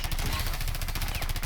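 Rapid automatic gunfire in Rainbow Six Siege hammers out in a tight, evenly spaced stream of close, loud shots, with a voice underneath.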